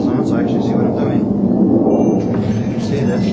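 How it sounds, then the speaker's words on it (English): A low, steady jet aircraft roar rumbles in the background throughout, distant but loud, with a voice speaking over it during fretwork on a cigar box guitar neck. "Sorry for the jet noise in the background."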